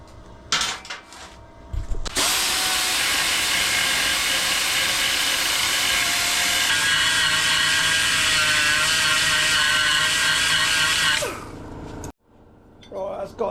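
An angle grinder cuts and grinds down steel tube for a handmade light bar, a loud sustained whir running about nine seconds after a few brief clunks, then winding down and stopping.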